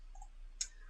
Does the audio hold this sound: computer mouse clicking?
yes